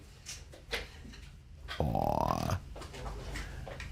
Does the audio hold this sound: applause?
no